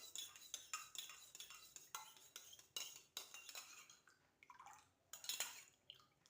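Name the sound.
spoon stirring and mixing warm water in a cup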